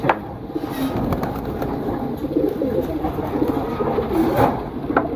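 Pigeons coo softly and continuously nearby, their murmuring calls layered over light ambient outdoor noise.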